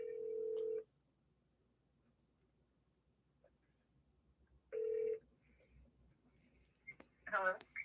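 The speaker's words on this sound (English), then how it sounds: "Well, the phone is ringing, and we're going to see if Brooke will take" Two separate ringback tones on an outgoing telephone call, each a steady tone under a second long with a gap of several seconds between them over a quiet line, followed by a faint voice answering at the end.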